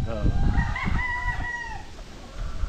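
A rooster crows loudly at close range in a backyard chicken farm built in terraced tiers, the long call rising and falling, with scattered clucking from other fowl around it.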